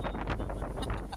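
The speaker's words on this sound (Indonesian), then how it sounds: "Anginnya cukup kencang ya, teman-teman." Strong wind gusting beneath Barelang Bridge 2, a loud continuous broadband rush with rumbling microphone buffeting throughout and no voices.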